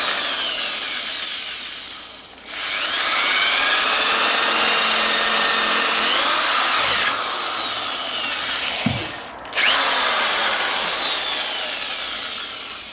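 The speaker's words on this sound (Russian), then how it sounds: "И начинаем сверлить." A power drill bores holes into a Kugoo S2 electric scooter during a battery upgrade, sustained whining runs broken by two brief pauses where the motor stops and restarts, close and loud with no talk.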